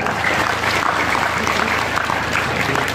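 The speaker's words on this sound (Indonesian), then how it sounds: "Tepuk tangan untuk puskesmas." A crowd at a Santri Day gathering applauds the local community health center. Continuous, fairly loud clapping fills the room, with faint voices mixed in.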